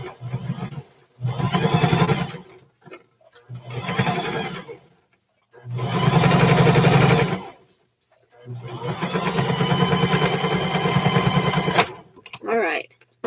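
A sewing machine stitches along a seam on a pair of shorts, running in several sustained bursts of moderate loudness with short pauses between them.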